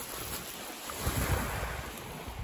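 Ocean waves at a beach in Croatia at sunset, a soft steady wash of surf mixed with wind rumble across the microphone, no voices.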